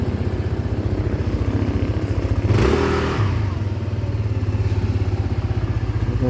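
A motorcycle on a test drive putters with a steady, rapid engine pulse, close by and loud, swelling briefly mid-clip as it revs before settling back into a rhythmic idle-like chug.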